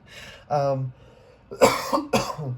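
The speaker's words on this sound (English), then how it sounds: "Clearing your throat, learning to speak again." A person clears their throat a few times in short rough bursts, mixed with vocal sounds, close to the listener.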